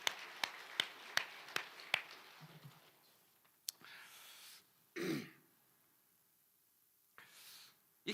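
A church congregation at a Sunday worship service claps briefly, with about half a dozen sharp, evenly spaced claps, followed by a throat clearing and quiet room shuffling.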